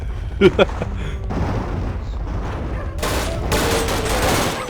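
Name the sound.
dynamite explosions and gunfire in the video game Sven Coop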